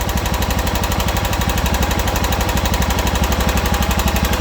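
A John Deere 240 engine runs after a carburetor adjustment, a loud, close, steady rapid chugging pulse with an even rhythm and no voices.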